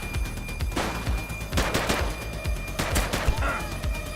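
Shooting in the video game The Precident: sharp, close shots ring out again and again in quick, uneven bursts over a low background bed, with no talk.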